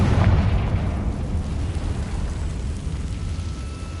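Confringo spell explosion in Hogwarts Legacy, a deep boom at the start that decays into a rumbling, crackling tail fading over several seconds, no talking.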